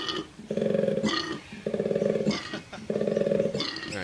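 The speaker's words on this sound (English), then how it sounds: "It's a bullfrog." Bullfrog calling in three deep, resonant croaks, each about half a second long and evenly spaced with short gaps, loud and close with no talk over it.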